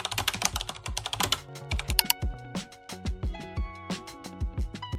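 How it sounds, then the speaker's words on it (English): Rapid, close clicking of keys on a computer keyboard, in uneven bursts of quick keystrokes with short gaps, clear and alone. "in the search bar type NS estimated delivery date."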